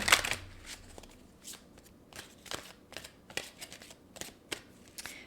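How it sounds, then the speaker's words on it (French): A deck of angel oracle cards is shuffled by hand in a quiet room: a sharp riffle opens, followed by a steady run of soft flicking and sliding card sounds. "Je vais aller chercher une carte des anges."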